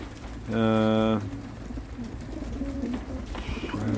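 A pigeon coos once in a low, throaty burst close by, with faint voices and background murmur around it.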